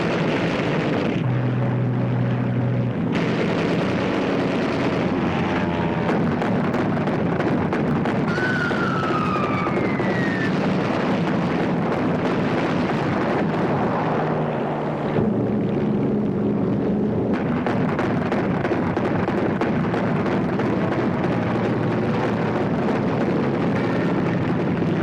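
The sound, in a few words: German aircraft attacking shipping, explosions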